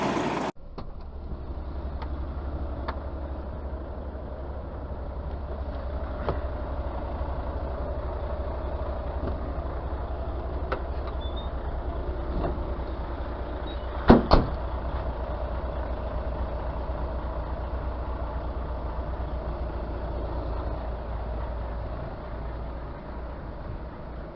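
A truck with a trailer drives slowly out to a back yard, its diesel engine a steady low idle-like drone with constant rumble, a couple of brief clanks near the middle, and no talking.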